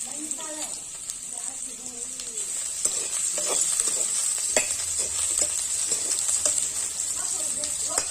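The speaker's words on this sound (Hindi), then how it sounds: "तो 4 से 5 मिनट तक अच्छे से भून लेंगे।" Diced potatoes fry and sizzle with browned onion in a pan, a steady bright hiss running throughout with occasional stirring scrapes and clicks.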